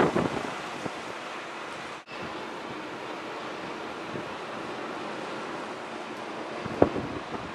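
Surf washing onto Malaga's city beach in the Malaguita district of Spain: a steady, broad wash of waves with wind buffeting the microphone, continuous and moderately distant, with no talk.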